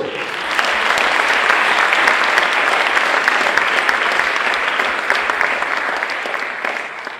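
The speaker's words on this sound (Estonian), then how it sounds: "olgu, aplaus." Audience applause at a film premiere gala: a large crowd claps loudly and steadily throughout, the sound thinning slightly toward the end.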